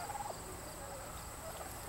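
Turkeys let out a few bubbling gobbles close by, some near and some farther off, set against a steady outdoor background with no talking.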